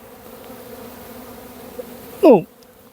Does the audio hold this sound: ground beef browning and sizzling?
no